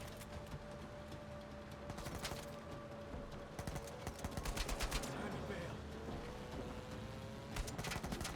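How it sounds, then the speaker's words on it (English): Gunfire in the video game Uncharted 4 rattles in rapid bursts of repeated shots, heavy and sustained, with short lulls between volleys. "the game's getting pretty bombastic and loud at this bit. With all the gunshots"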